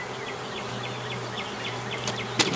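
Honey bees buzz around a frame lifted from a beehive during a honey harvest: a steady, close, droning hum with wavering whines from individual bees and a sharp tap near the end.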